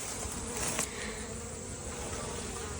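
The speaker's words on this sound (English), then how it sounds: "there's honey up here, but there's very few bees in these supers" Honeybees buzz around beehive supers on a warm day, a steady close hum of a few insects with one louder pass, no talk.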